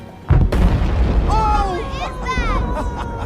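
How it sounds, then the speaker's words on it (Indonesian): A building near a house blows up in a dramatized 1945 wartime scene, giving one loud, sudden boom followed by a rumbling aftermath while voices cry out over the fading noise. "Tak lama kemudian terlihat bangunan yang tak jauh dari rumah Welly meledak."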